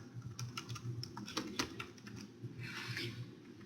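Typing on a computer keyboard: a steady run of soft, close key clicks with small pauses and a brief flurry near the end. The room is quiet and no one speaks.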